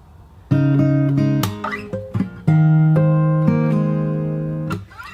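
Solo fingerstyle acoustic guitar plays a short passage from a pop song, with clear plucked notes and ringing bell-like harmonics over a C bass note, close and unaccompanied.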